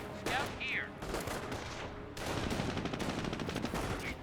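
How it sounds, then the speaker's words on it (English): MG42 machine gun bursts in Company of Heroes, rattling gunfire in rapid sustained volleys mixed with battle noise, fairly faint, with brief synthetic whistles overhead. "MG42 now deployed in the field."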